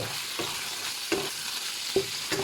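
Small pieces of chicken stirred in a hot pan. A steady frying hiss runs under a few separate scraping stirs, spaced about half a second to a second apart, close and moderately loud, with no voices.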